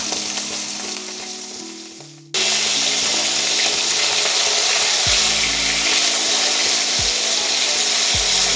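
Snakehead fish fry in hot oil with a loud, steady sizzle that fills the clip, preceded by a quieter stretch with a low hum, and a few soft thuds punctuate the frying.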